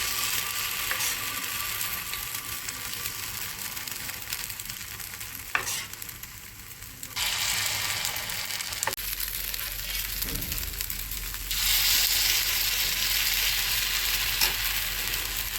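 Semolina appam batter in an appam pan over gas, giving a steady close sizzle and frying hiss, with a few clinks and shifts in intensity partway through.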